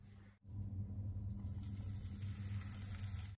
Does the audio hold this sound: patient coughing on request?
no